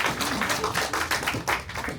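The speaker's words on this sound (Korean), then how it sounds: "큰 박수 부탁드릴게요" Audience applause at an indoor seminar, a burst of brisk, close clapping from a crowd that carries steadily for about two seconds.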